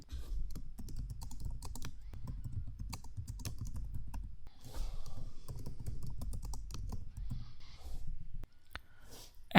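Steady, rapid clicking of a computer keyboard as a title is typed in while uploading a YouTube Short on a PC, continuous for about ten seconds with no talking.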